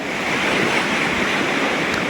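Sea waves on the Italian coast near Ancona wash in a steady, loud rushing roar of surf, continuous and close, with no voices.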